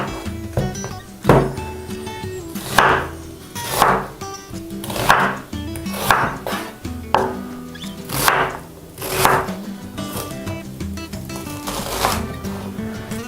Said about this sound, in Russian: лук можно порезать вообще огромными ломтями